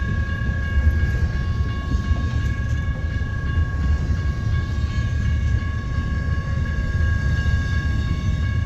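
Steady low rumble of an eastbound main-line train rolling past in Missouri Valley, Iowa, at the start of a blizzard, with continuous wheel and car noise and faint high tonal squeal, no horn.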